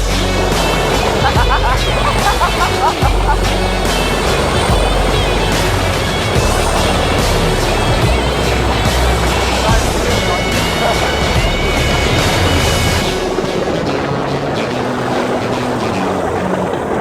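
On a heritage train running along the Epping Ongar Railway, a loud, continuous engine and track roar carries on throughout the ride, with people talking over it.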